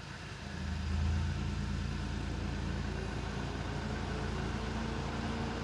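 An Audi A6 45 TFSI quattro Premium idles at the exhaust, a steady, low, even rumble close to the microphone that settles after a slight swell in the first second and holds unchanged to the end.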